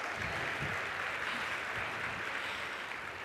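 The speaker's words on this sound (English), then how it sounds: "listen to everybody clap at him" Steady applause from a large audience at a live horse show, greeting an Olympic event horse as it is presented; the clapping is dense and continuous at even loudness throughout, with no voices standing out.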